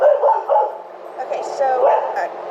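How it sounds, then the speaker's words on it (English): A pet dog named Jock barks and yips in short bursts, fairly near, with a person talking over and between the barks. "that's my dog"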